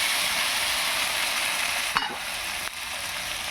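Meat stirs and fries in a pan with a steady, loud sizzle that runs throughout, broken by a brief scrape of the spoon near the middle and no voices.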